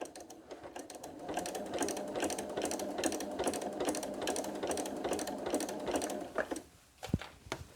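Sewing machine stitching down a glue-basted quilt binding, a close, steady, fast whirring patter that runs evenly for about seven seconds before stopping, followed by a couple of brief mechanical clicks.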